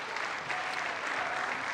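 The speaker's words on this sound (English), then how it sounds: "That's the Dems clapping." Democrats in the chamber clapping at the State of the Union address, a steady wash of crowd applause, fairly distant and even, with no voices over it.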